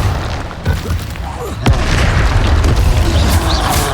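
A Confringo blast spell detonates in a Harry Potter video game, a loud booming impact followed by a sustained rumbling roar amid dense game effects.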